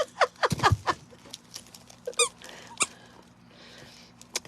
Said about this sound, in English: It squeaks, it crinkles.